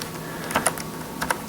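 Someone types on a Raspberry Pi 2 computer keyboard, a few quick close key clicks in two small bursts over a quiet background.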